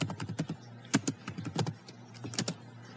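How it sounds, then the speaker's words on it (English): Keys on a computer keyboard clatter in quick, uneven bursts as initials and a location are typed into a form field, each keystroke a close, crisp tap with short pauses between them. "In the location field, type your initials along with the location"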